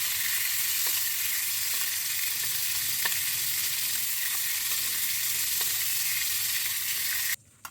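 Beef frying in a pan gives a steady, bright sizzle that holds evenly throughout with faint ticks and pops, close and continuous, until it cuts off abruptly at the end.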